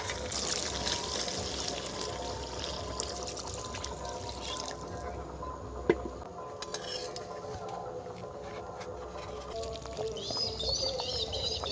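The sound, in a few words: pouring water into chicken curry in pan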